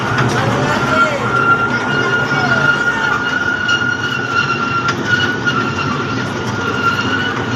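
A ride train in a large park rolls steadily past with a loud, continuous rumble and a thin sustained wheel whine, while a voice can be faintly heard underneath.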